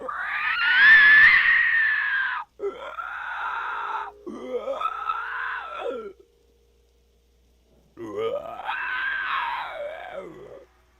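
A human voice mimics the snarling, screeching cry a Roblox horror-game monster makes while chasing people: four drawn-out, rising-and-falling harsh wails separated by short pauses, close and loud, with no other sound.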